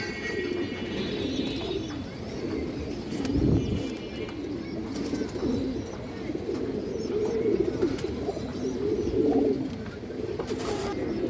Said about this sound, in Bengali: লাল গিয়ারের খুব সুন্দর একটা কবুতর সবুজ গলা কবুতর